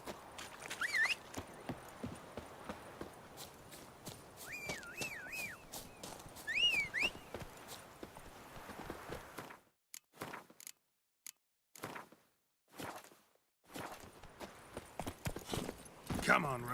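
Hooves of Roach, a horse in The Witcher 3, clip-clop in a steady rapid rhythm under game music and voices. The hoofbeats cut out around the middle and return in scattered bursts.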